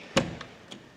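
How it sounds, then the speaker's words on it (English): A single solid thud of a heavy 1997 Bentley Turbo RT car door shutting, followed by two faint clicks as it settles. "shutting the door requires an actual push"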